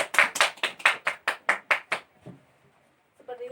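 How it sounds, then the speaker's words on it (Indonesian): A classroom claps for a student named Zikra during an Islamic history lesson, a quick run of about nine sharp, evenly spaced hand claps close by, then the applause stops and the room falls almost silent. "Beri tepuk tangan untuk Zikra dulu."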